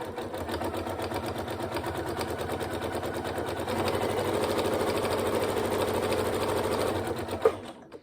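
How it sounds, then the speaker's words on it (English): A sewing machine runs steadily, zigzag-stitching along a zipped pencil case, its fast rhythmic whirr continuous and close for most of the stretch, growing a little louder midway before stopping near the end with a small clunk. "I could just do a zigzag stitch along here"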